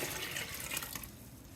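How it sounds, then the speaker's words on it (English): Hot water poured into a Nesco electric pressure canner, a steady, close splashing and trickling flow that runs continuously and tapers slightly toward the end, with no talking. "I need to go ahead and put hot water"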